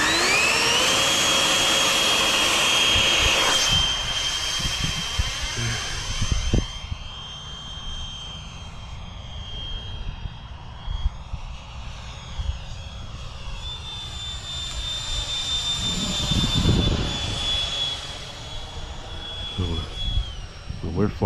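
An electric ducted fan jet RC plane, a FliteTest Flerken, whines loudly with a high steady tone that fades as it flies away and swells again on a pass, with breezy outdoor noise throughout.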